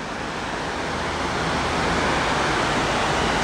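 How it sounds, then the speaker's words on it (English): Rainwater from a night of heavy rain overflows the dam at Coburg Lake and pours down like a waterfall, producing a steady, loud, unbroken roar of rushing water with no talking. "the dam, after a night of rain, it overflows and turns into a like waterfall"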